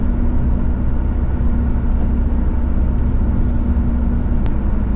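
A two-wheel drive pickup truck drives through snow, its engine and tires giving a steady, loud, continuous rumble with a low droning hum and no pauses or talking.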